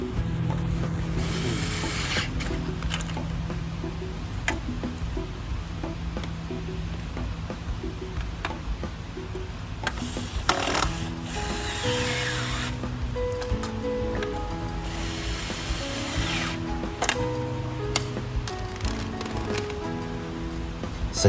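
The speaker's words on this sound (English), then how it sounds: "Get all the nuts tightened." Ratchet tightening nuts on a Tesla Model sport seat frame during installation, steady clicking and rasping mechanical ticks repeated over a long stretch with occasional scraping rubs.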